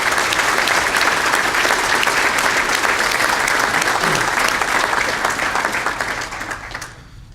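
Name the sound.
applause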